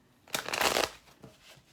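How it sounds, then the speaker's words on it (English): A deck of tarot cards is riffled in one quick burst lasting under a second, followed by a softer, shorter shuffle, close and clear with no talking. "before I start shuffling and let the cards fall"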